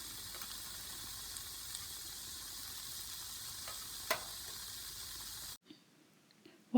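Batter sizzles in a hot frying pan as a steady, close hiss that runs unbroken for several seconds, with a faint clink partway through, then cuts off abruptly into near silence before a short closing noise.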